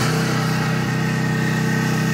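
A pressure washer rinses foam cleaner from the underside of a 17-year-old truck, giving a loud, continuous motor drone with a steady pulsing hum and spray hiss throughout.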